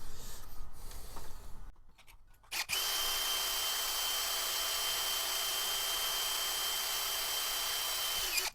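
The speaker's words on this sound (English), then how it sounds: "I guess I gotta drill more." A power drill bores through a metal trimmer attachment during a repair, a loud steady high whine after a brief pause and rough start, running continuously to the end.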